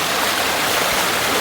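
Hot spring water flowing out of an outlet into a deeper pool, a steady close rushing stream with bubbling texture, continuous and loud with no talk.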